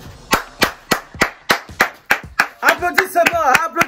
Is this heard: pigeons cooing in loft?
no